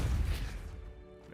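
A Depulso spell impact in Hogwarts Legacy: a short, loud, low-heavy crash-like burst that decays over about a second, heard alone.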